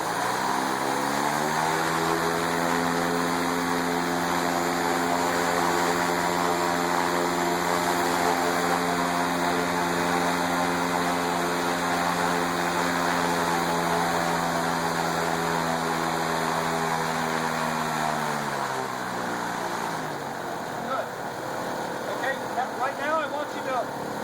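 A paramotor engine and propeller in a powered paragliding training simulator throttle up into a loud, steady, buzzing drone that holds for about twenty seconds before easing off near the end.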